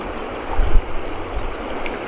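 A stream current flows steadily past a fishing net in shallow water, giving a continuous close rushing wash with a few slightly louder surges and no voices.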